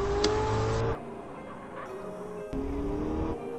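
Car engine from GTA San Andreas gameplay, a steady whirring drone that drops in pitch and level partway through, then picks back up as the car keeps driving, with no talk over it.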